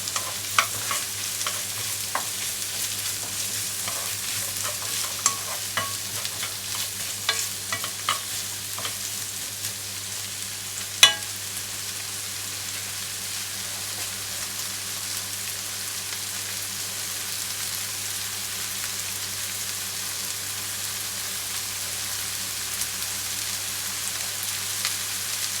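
Bacon and vegetables stir-frying in a pot for bacon soup, a steady close sizzle and crackle with scattered scraping stirs and one sharp clack, no voices.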